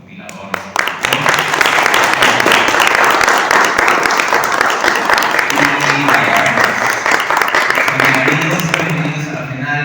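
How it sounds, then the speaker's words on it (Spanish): An audience at a book presentation on Mexican rock albums breaks into applause for the compilers, starting abruptly and swelling into loud, dense clapping that stays strong, with some voices mixed in. "Vamos a dar un aplauso a nuestros compiladores."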